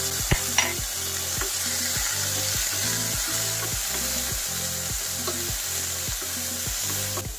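Tomato, pepper and carrot sauté in a hot pan, a steady loud sizzle broken by a regular rhythm of scraping stirs, about one or two per second, with no voices.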